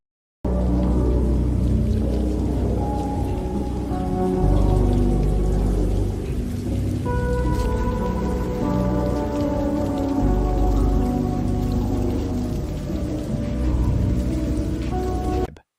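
Steady rain patters through a dark, rain-slicked cyberpunk alleyway, a dense continuous hiss layered with low sustained tones, even and unbroken throughout.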